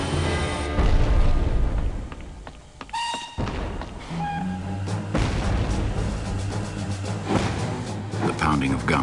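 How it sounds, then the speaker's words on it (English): Heavy artillery and guns in War of the Worlds boom and thud repeatedly amid a dense, loud battle soundscape, with a narrator speaking over it. "Guns from the common grew louder."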